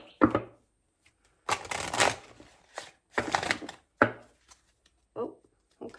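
Several quick rustling bursts of playing cards being shuffled, close and crisp, separated by short pauses.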